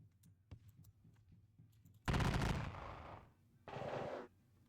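Musket volleys in a Napoleonic wargame: a small pop, then a loud crackling rolling volley that trails off, followed by a second shorter burst, alone without talk.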